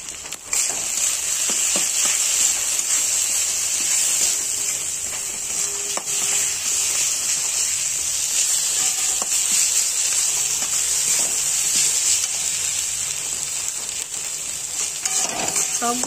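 Pointed gourd and grated coconut fry in hot oil with a steady, loud sizzle throughout, broken by occasional scraping and stirring taps in the pan.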